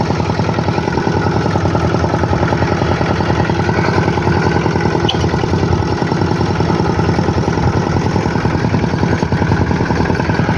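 An 8-horsepower walk-behind tractor engine chugs steadily nearby, a constant loud putter with a rapid, even beat and no pauses.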